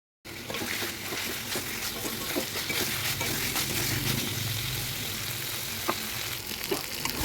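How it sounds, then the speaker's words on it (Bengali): Chicken pieces sauté in oil in a pan for chicken ghugni, giving a steady, continuous sizzle with occasional stirring scrapes, close and fairly quiet, with no talk. "মাংসটা এখন দিয়ে এই যে ভালো করে কষাচ্ছি"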